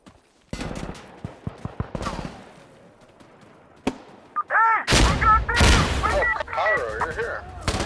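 Gunfire rings out in the tactical shooter Insurgency: Sandstorm: a string of single shots, then heavier bursts and rapid firing that grow louder and denser toward the end, with players shouting over it.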